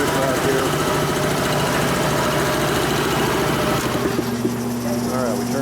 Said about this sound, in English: Turn off our fan, that's an after cooler.